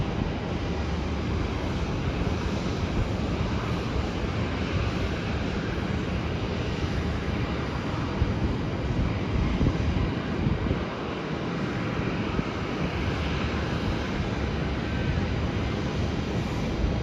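An airliner arriving at Melbourne airport, heard as a steady broadband engine roar with heavy wind rumble, loud and continuous for the whole stretch with no clear rise or fade.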